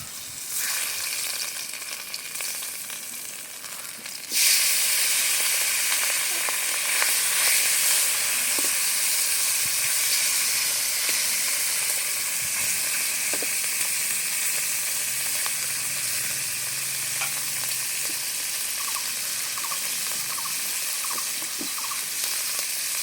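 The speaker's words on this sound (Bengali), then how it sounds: "কালকের মাছ ধরা বাইন মাছ বেলে মাছ এখন এটা ভাজি হবে" Freshly caught bain eel and bele goby fish fry in hot oil on an outdoor stove. A loud, dense sizzle starts suddenly and keeps crackling and hissing steadily, with nobody talking.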